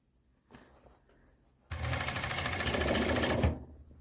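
An overlock serging sewing machine hemming trousers runs in one steady, loud, continuous burst of about two seconds after some quiet handling noises, then stops.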